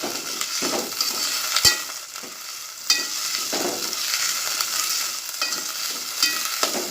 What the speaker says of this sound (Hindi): ये मैं मीडियम आंच पर मसूर तल के लूँगी।